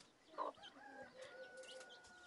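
A chicken gives a few soft, faint clucks in a quiet rural home, with one slightly louder note near the start, followed by low background sounds and no talking.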